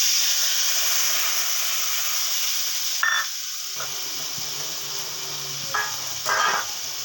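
Spice paste of salt, turmeric, cumin powder and chilli powder hits hot oil already tempered with cumin seeds for a mango katla fish curry, giving a steady close sizzle and hiss that surges briefly as the paste goes in.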